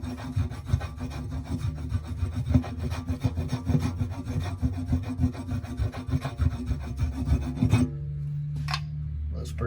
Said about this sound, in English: Scrape it, get it, any imperfections out of it.